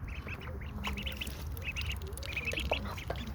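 Young ducklings quack and peep while drinking and splashing about, a steady chorus of close, overlapping squeaky calls over a constant background murmur of water and movement.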